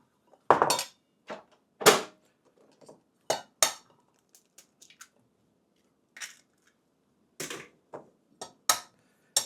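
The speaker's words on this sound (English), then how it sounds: "I'm going to break a few more eggs because now we're going to make a filled omelet" Eggs are cracked one after another for a filled Denver omelette, with quiet, separate cracks, soft squishy shell breaks and a light clink of kitchenware between long silent gaps.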